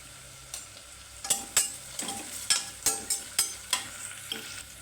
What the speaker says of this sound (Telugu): ఉల్లిపాయ బాగా సాఫ్ట్గా వేస్తే సరిపోతుందండి ఇవ్వండి కొంచెం కరివేపాకు